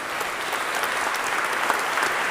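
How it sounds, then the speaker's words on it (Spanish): A hall audience at a talk about a beatified Uruguayan bishop bursts into loud, sustained applause, a thick continuous patter of many hands with no voices over it. "Esos aplausos me hicieron recordar el seminario."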